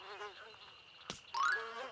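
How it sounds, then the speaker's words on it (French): Mosquito in a cartoon giving a thin, brief whining buzz that rises in pitch near the end, preceded by a sharp click and a faint warbling tone. "Ah, un moustique."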